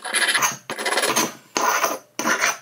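Abrasive stone rasping over the bare cast metal base of a CJ0618 7x12 lathe tailstock to knock off burrs, four close, scratchy strokes separated by short pauses, alone with no talk.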